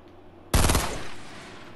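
A single sharp, loud burst of gunfire in Fortnite, a quick rattle of shots that cracks suddenly out of near silence and rings out in a short decaying tail.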